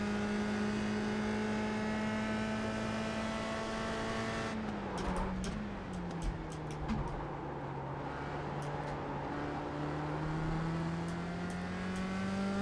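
A USF 2000 race car engine in the iRacing video game at Mid-Ohio drones at a steady high pitch, drops sharply as the driver lifts for a corner, then climbs again under acceleration.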